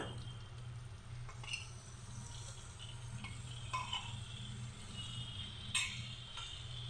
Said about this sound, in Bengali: ময়দা দিয়ে এভাবে নাড়তে থাকবো অনবরত